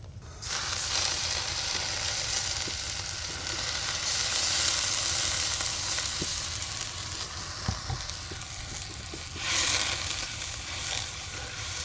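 Paste of onion, garlic and green chili with turmeric and chili powder frying in oil outdoors in the Sundarbans, a loud continuous sizzle with a few stirring clicks and a brief surge of hissing near the end, no speech.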